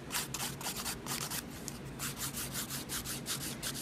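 An electric nail file bevels down the sidewalls of gel nails in short, rhythmic grinding passes, close and fairly quiet, with no talking.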